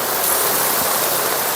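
Steady rain falling as a dense, even hiss of loud, close-up wash with no breaks, no voices or other sounds.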